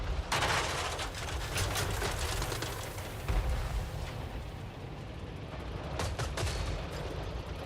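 A moving tank fires repeatedly in the strategy game Total War: Warhammer III, a dense rolling barrage of booms and crackling gunfire over a continuous roar of battle noise, steady and loud throughout.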